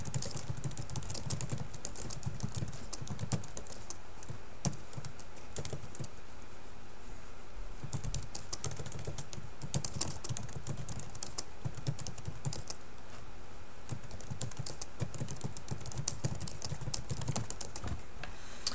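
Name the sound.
typing coach comments on a computer keyboard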